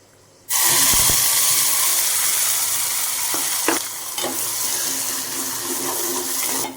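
Loud, steady sizzling of mustard seeds, asafoetida and ground spice paste frying in hot oil, starting abruptly after a brief quiet moment, with a few clinks of a utensil stirring the pan.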